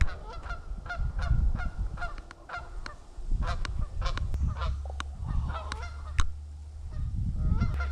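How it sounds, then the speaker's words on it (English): Canada geese honk repeatedly from the marsh beside Lost Island Lake, a steady chorus of nasal calls at moderate distance over low wind and a rumbling background. "you can kind of hear the Canadian geese in the background"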